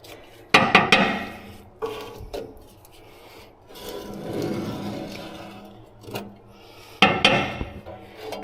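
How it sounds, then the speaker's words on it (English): Metal scraper rasping cooked-on residue off the inside walls of a pellet smoker, repeated rough scraping strokes in bursts, some sharper and louder, with quieter rubbing between, close up. "Okay, so I'll get this scraped off. I'm going to use my little scraper now."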